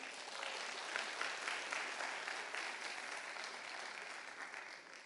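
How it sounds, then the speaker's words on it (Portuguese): A congregation applauds during a Portuguese-language church service, a steady wash of clapping from many hands that holds for several seconds and slowly fades, heard at a moderate distance. "Aplauda ao Senhor."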